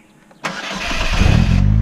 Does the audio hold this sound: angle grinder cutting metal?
no